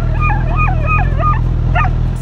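A pregnant dog met by bikers on a trail whimpers and cries in high, wavering whines repeated over a steady low engine idle, close to the listener.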